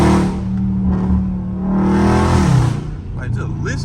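A catless Dodge Charger Scat Pack engine revs loudly and steadily in traffic, its tone rising and falling, while someone talks over it.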